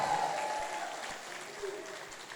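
A church congregation claps together in a steady, dense wash of applause, fairly close and sustained throughout, with faint voices mixed in.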